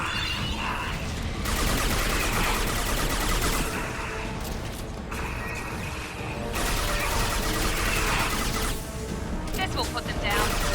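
Sustained gunfire from a Mass Effect 2 firefight, dense bursts and booms running almost continuously at a loud, steady level, with a voice talking over the shooting.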